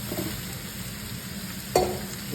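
Chicken, carrot and cabbage stir-frying in a pan give a steady soft sizzle with faint scraping, and one sharper clink of a utensil against the pan partway through.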